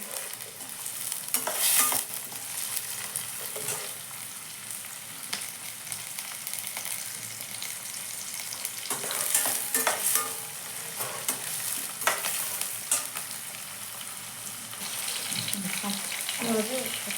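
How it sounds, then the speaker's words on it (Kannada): Food fries in a pan on a gas stove, giving a steady sizzle with scraping stir sounds and brief clatters throughout. "ಈಗ ಸ್ವಲ್ಪ ಫ್ರೈ ಮಾಡ್ತೀನಿ."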